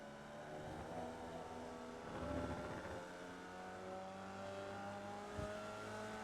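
Formula Vee race car engine in the iRacing simulator at Lime Rock Park, a steady droning engine note climbing as the throttle opens, with a brief bump midway and no talk.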